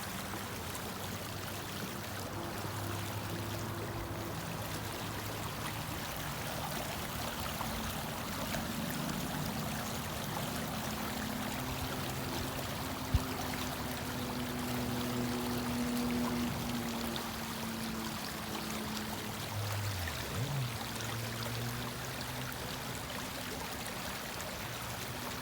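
Clear water flowing in a stream in Canada, a steady broadband rush with trickling texture, continuous and moderately loud with faint tonal hum beneath and no voices.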